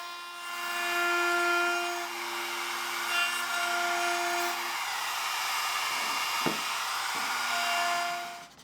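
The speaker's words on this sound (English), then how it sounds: "Then I'll go around the newly sawn edges of the legs and frame pieces with a roundover bit." A router fitted with a roundover bit whines at a high, steady pitch as it rounds the freshly sawn edges of 2x4 bench legs and frame pieces, its tone dipping briefly once or twice as the cut loads.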